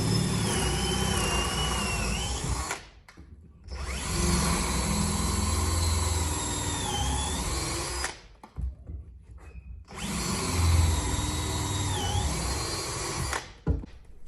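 A power drill bores a 3/8 inch hole deep into a wooden board in three long runs of whining motor and grinding wood, each several seconds, separated by brief pauses; close and loud.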